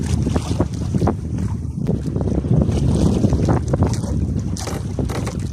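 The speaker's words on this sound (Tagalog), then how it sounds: "Malakas ang hangin mga idol. May kalakasan ang hangin." Strong wind buffets the microphone in loud, gusty rushes on a farm field, with a rough, roaring texture and occasional sharp bursts throughout.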